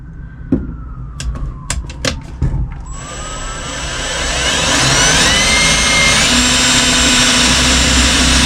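A few sharp knocks, then a power drill with a 15/64 bit spins up and runs steadily, its whine rising and holding loud to the end, drilling a pedal mounting hole in a 1994 truck.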